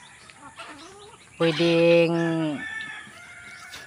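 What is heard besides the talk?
native chicken rooster crowing and clucking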